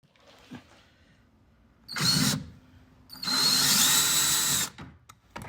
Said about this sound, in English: just in case your drill bit isn't long enough to actually fit all the way up there